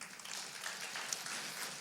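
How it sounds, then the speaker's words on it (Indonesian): A short burst of steady applause from a church congregation during a sermon, many hands clapping together in a dense, even patter with no voices. "Tepuk tangan bagi Tuhan."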